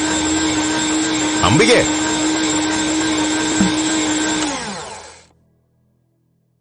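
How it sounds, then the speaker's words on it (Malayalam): An electric mixer grinder whirs with a loud, steady motor drone for several seconds, then winds down and stops, leaving silence. A voice calls out briefly over the machine. "ആ മിക്സി ഒന്ന് നിർത്തിക്കേ."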